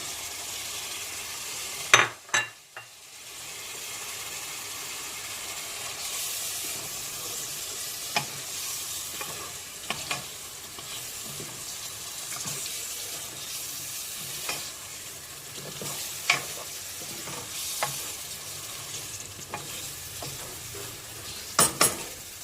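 Potatoes sautéing in a pan for a chickpea stew, a steady sizzle running throughout with a loud clatter near the start and occasional utensil knocks against the pan.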